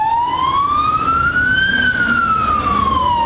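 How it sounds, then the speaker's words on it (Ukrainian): A fire engine's siren wails close and loud, its pitch rising and then falling in one long sweep over steady traffic rumble as the truck arrives at a building fire. "Ще через 2 приїздить перша пожежна машина."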